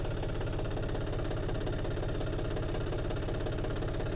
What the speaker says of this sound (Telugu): సో గైస్, ఇప్పుడు ట్రాక్టర్ స్టార్ట్ చేసిన, మొత్తం గేర్ వేసి ఇడిచి పెడతా